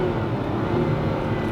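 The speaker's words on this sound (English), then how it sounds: "It sounds like those classic F1 cars from the 70s" Carbureted flat-12 of an early Ferrari 512BB running at a steady idle, a low, continuous mechanical rumble heard at moderate distance with no voices over it.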